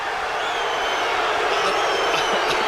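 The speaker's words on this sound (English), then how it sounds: "don't know why the crowd are jeering on that" Boxing arena crowd at the 1993 Holyfield–Bowe rematch, a dense, steady roar of many voices jeering between rounds, loud and continuous throughout with no single voice standing out.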